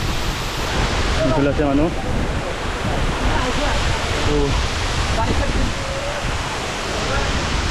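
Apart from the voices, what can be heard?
Ranikhamar waterfall rushing water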